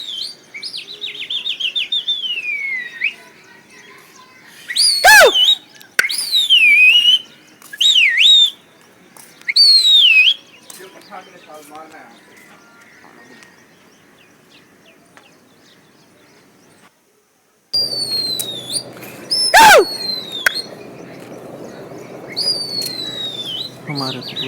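Pigeons released by a pigeon keeper burst into flight with loud, irregular wing flaps, mixed with sharp whistles and chirping birdsong. A quieter stretch follows, then more close flapping and chirps.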